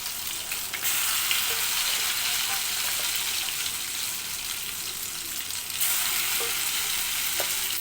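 Batter-coated chicken 65 pieces, marinated with egg and masala, fry steadily in hot oil, giving a loud, continuous crackling sizzle that swells and settles in waves with a few small pops, with no voices.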